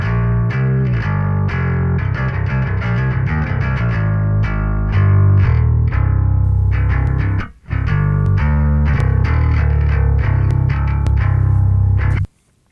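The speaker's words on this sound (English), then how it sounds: "adding clean, undistorted low end to your distorted bass track" A heavily distorted metal bass guitar tone from amp simulators plays a gritty riff over a solid, clean low end, pausing briefly midway before continuing loud to the end.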